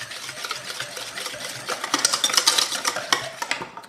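Mayonnaise sauce with white wine vinegar and ground black pepper mixed briskly in a bowl, a close, rapid whisking rattle of utensil against dish that builds in loudness and then eases off near the end.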